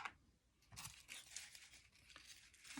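Paper scrunched up by hand for a craft project gives dry crinkling and tearing rustles in several bursts, close and moderately loud, with no talking.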